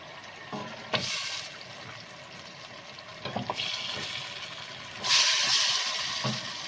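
Chicken pieces added to a pan with tomato for a Saudi kabsa, frying in a steady soft sizzle with a few louder hissing surges and stirring clatters, close and alone without speech.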